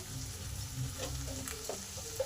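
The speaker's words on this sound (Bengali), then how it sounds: "সমস্ত মশলা এই টমেটোর সাথে কষে নেব" Chopped tomatoes with turmeric, chilli, cumin and coriander powders frying in a pan, a low steady sizzle under light scraping stirs, fairly quiet and close.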